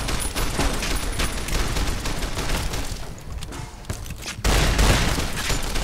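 Gunfire erupts in the video game Fallout New Vegas as loud rapid bursts crackle continuously, dip briefly into a quieter stretch, then return with a heavier, louder volley.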